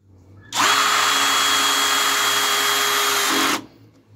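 Parkside 12V cordless drill driving screws, a single loud steady whine lasting about three seconds with a sharp start and stop, heard close up with no talking.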